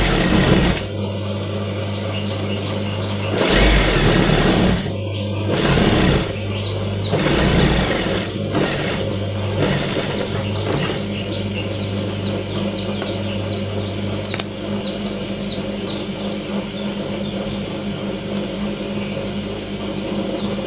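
A sewing machine stitches a hijab in several short bursts of rapid mechanical whirring, separated by pauses, then settles into a longer steady run, close and loud, with faint background hum between bursts.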